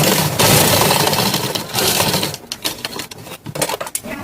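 A sewing machine stitching a dhoti pant, running in a fast continuous whir at first, then in short stop-start bursts toward the end.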